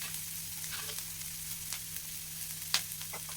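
Onions, green chillies and curry leaves fry in a pan with a steady close sizzle and a few sharper crackles and stirring scrapes, one louder pop near the end, no voices.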